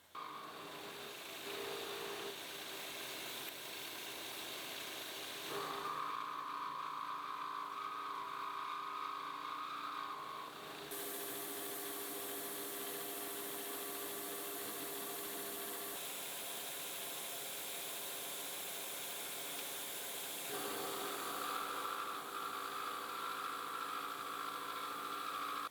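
A milling machine with a rotary head cuts into the corners of a metal plate, producing a continuous loud whirring grind that shifts in pitch and intensity as the cutter works in passes.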